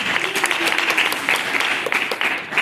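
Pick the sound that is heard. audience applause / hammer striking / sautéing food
audience applause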